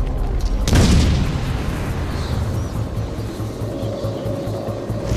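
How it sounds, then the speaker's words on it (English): A grenade goes off in the Batman game Arkham City, a single loud booming blast that rolls into a low rumble and fades under lingering game ambience. "Grenade!"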